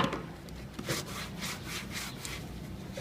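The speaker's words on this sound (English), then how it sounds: "take a little sanding block. You just want to sand it down." Hand sanding of Bondo body filler with a sanding block gives a steady, close, rasping rub, repeated back-and-forth strokes at an even rhythm with no voices.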